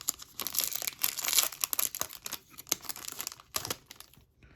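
Foil packs of 2021-22 Upper Deck Tim Hortons hockey trading cards are torn open and handled up close, giving a busy run of crinkling, rustling and tearing bursts that fade out at the end.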